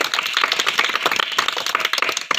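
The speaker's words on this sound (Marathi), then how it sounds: "जोरदार टाळ्या वाजवा तिच्यासाठी." Students in a Marathi village school classroom clap hard and steadily for a girl about to sing, a dense, continuous burst of many hands close by with no pauses.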